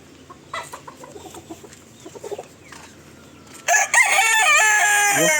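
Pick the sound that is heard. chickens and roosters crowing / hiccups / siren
chickens and roosters crowing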